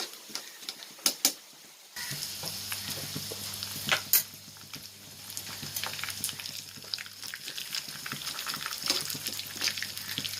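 Mung beans roasting in ghee in a pan give a steady soft frying crackle with light scraping and stirring clicks, quiet and close, with no speech.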